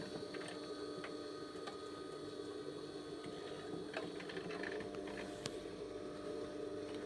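A sewing machine stitches a dress sleeve into the armhole with a continuous whirring drone and a faint hum, steady throughout with occasional light clicks.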